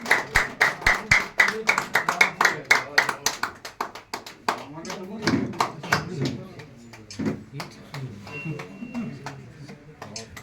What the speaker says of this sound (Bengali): সকল মিলে জোরে হাত তালি